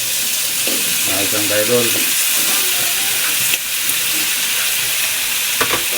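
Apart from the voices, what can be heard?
vegetables frying and being stirred in oil for pakbet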